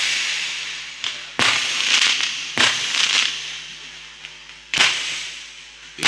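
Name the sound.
firecrackers exploding outside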